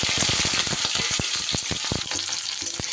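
Ginger, garlic, green chili and tomato frying in hot oil: a close, continuous crackling sizzle broken by sharp pops and stirring scrapes, with no talking.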